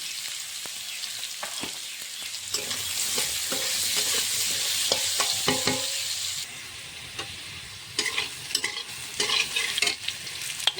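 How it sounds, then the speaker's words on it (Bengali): Potatoes fry in a pan with a constant sizzle while a spatula scrapes and knocks against the metal in bursts. The frying grows quieter midway, then more stirring clatter follows. "আলুটা ভাজা হয়ে গেছে, হালকা করে এখন ঝিঙেটা দিয়ে দেবো।"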